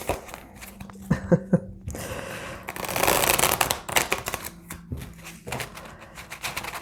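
A deck of playing cards is reshuffled by hand in a tarot-style reading, with quick riffling and crisp snapping bursts, sliding and flicking rustles, and a few sharp taps, close and moderately loud, without talking.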